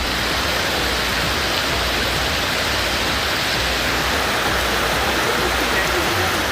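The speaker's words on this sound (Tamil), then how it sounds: "இடுக்கி மாவட்டத்தின் ஐயப்பன் கோவில் பகுதியில் உள்ள பெரியார் ஆற்றில் வெள்ளம் பெருக்கெடுத்து ஓடியது" Floodwater in the Periyar River near the Ayyappan temple area of Idukki district, Kerala, rushes after heavy rain as a steady, loud, close roar of broadband noise with no breaks and no voices.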